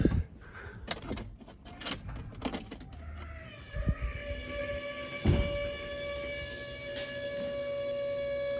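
Mechanical clattering gives way to a steady electric whine with a sustained tone as a Land Rover Defender 110 Td5 diesel fuel pump primes after ignition, with a couple of sharp knocks.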